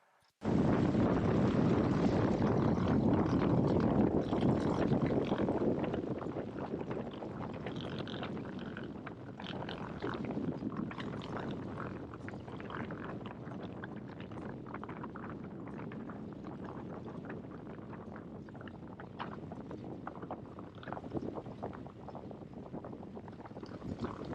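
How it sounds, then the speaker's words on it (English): A Cessna takes off from runway 31: after a brief quiet moment, engine roar and rushing wind surge in loudly, stay strong, then ease slightly into a sustained steady drone. "Cessna 7580 X-ray, taking off runway 31 for departure to the west"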